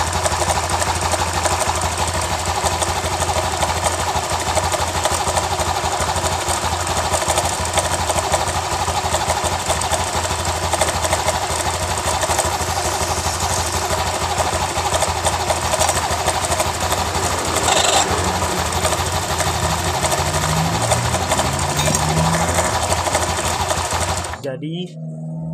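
A Honda Genio scooter engine runs with a knocking from a loose crankshaft bearing, a steady, fast, rattling clatter that is close and continuous for about 25 seconds before it cuts off, with someone talking over it.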